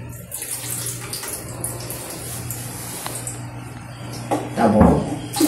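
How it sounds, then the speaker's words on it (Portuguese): Water pouring from a tap into a pot for making jam, a steady close rush that runs throughout and grows louder and splashier toward the end. "eu só vou colocar um pouquinho de água."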